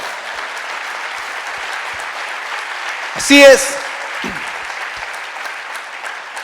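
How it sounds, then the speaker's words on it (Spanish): A church congregation applauding during a service, a steady bed of clapping under a brief spoken exclamation, with the clapping continuing evenly throughout. "denle un fuerte aplauso al Señor."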